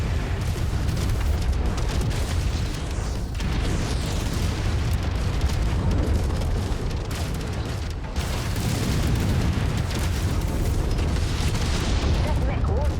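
Heavy booms and blasts as a giant mech is destroyed in the MechWarrior game, a dense continuous roar of explosions and weapon fire with a brief lull midway, while a synthetic voice speaks over it.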